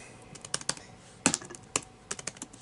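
Quiet, close typing on a computer keyboard: irregular clicks and clacks in short bursts, with one louder cluster of keystrokes midway and no voices.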